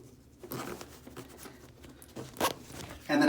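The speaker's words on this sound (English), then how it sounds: "a compartment here for my tablet, which zips right up in here" A zipper runs along the tablet compartment of a bag packed with shaving and filming gear, a quiet scratchy pull that ends in a louder, brisk final stretch close to the microphone.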